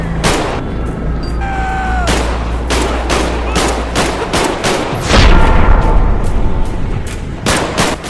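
Repeated loud gunshots and bursts of automatic fire from a shootout in the video game GTA 5, sharp impacts spaced irregularly across the scene with a heavier burst midway, over a steady low game soundscape.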